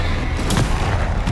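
A spell cast in the video game Hogwarts Legacy lands as a sudden booming impact with a crackling burst partway through, over a constant low rumble of game noise.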